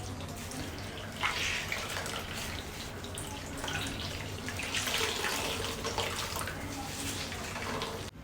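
Water splashes and trickles steadily as a cloth soaked in a hot water cleaning mixture is wrung out, the drips and pouring continuous and close with slight surges.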